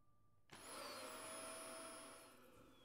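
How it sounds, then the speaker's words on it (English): Vacuum cleaner sound effect in a video game, switching on suddenly after quiet and settling into a steady high whine and whoosh that slowly fades slightly. "Vacuum."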